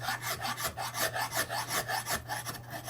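An Iwasaki file rasps in quick, even back-and-forth strokes on a guitar build, about a dozen rhythmic passes, close and fairly quiet over a faint steady hum.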